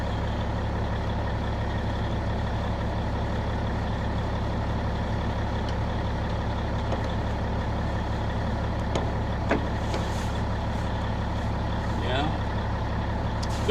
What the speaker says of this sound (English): while the truck builds up its air